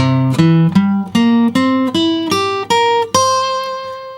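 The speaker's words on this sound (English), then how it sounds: "a C dominant 7 arpeggio." Plucked acoustic guitar notes climb one at a time in a steady C dominant 7 arpeggio, each ringing briefly, ending on a longer sustained high note.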